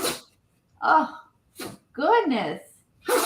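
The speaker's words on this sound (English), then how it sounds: "You're sneezing like a person." A pet dog sneezes several times in a row, short sharp nasal bursts spaced about a second or more apart, close and fairly loud, with a brief spoken exclamation between them.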